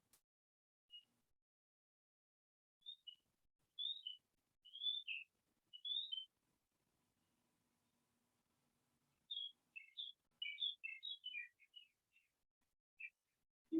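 Birds chirping outside, audible from a room during a beginner yoga session, as faint, distant high chirps that come in two loose clusters separated by a long quiet stretch.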